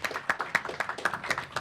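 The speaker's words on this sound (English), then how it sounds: "I think we should give them an applause and let them get seated" Audience clapping for a panel of speakers at a forum on Fukushima Daiichi, heard as a short, fairly faint burst of separate claps with no voices over it.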